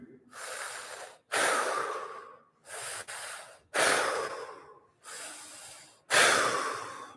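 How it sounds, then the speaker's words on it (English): Deep, deliberate breaths during a guided fascia exercise session, six long forceful inhales and exhales through the nose, close and loud, each rushing breath separated by short pauses with no talking. "Lean forward a little bit, opening up the spleen. And breathe."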